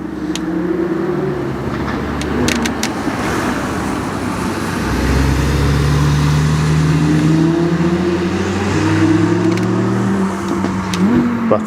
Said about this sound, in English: Porsche's coming through nice and quiet